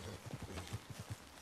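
Horse hooves clop in Red Dead Redemption 2, a quick, even rhythm of soft, thudding steps at low volume, like a horse trotting away at a short distance.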